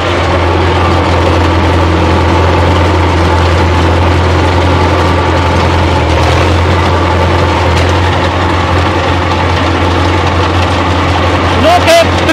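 A DT-54 tractor engine runs loudly nearby as a deep, steady rumbling drone, constant throughout, with voices talking over it.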